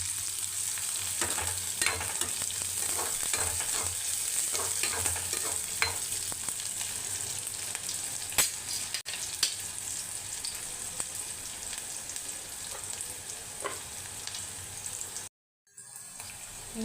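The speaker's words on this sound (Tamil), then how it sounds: "இப்போ 2 நிமிஷத்துக்கு நல்லா வதக்கி விடலாம். வெங்காயம் நல்லா வதங்கணும்." Onions sizzle and crackle steadily in a hot pan, with occasional scraping stirs and a brief pause near the end.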